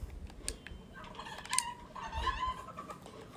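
Chickens in the video game Fortnite give a few short, faint clucks and squawks, scattered over about three seconds with no talk.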